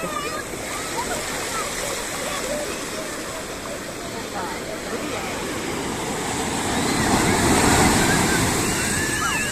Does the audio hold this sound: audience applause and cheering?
no